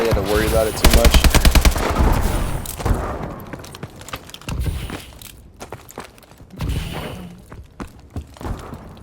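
Rapid automatic AK rifle fire in Call of Duty: Advanced Warfare, a loud close burst followed by scattered shots, thuds and footsteps amid game noise.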